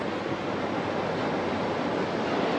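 Ocean waves wash onto Cable Beach in Broome as a steady, continuous roar of surf mixed with wind noise, loud and unbroken, with no voices.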